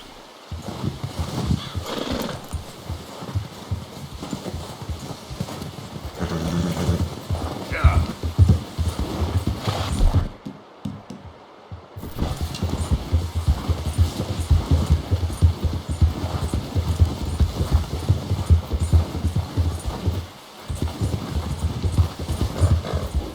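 In Red Dead Redemption 2, horse hooves clip-clop in a steady rhythm as a horse carries a hunted deer home, with a whinny, a brief pause, then continuous hoofbeats under some talking.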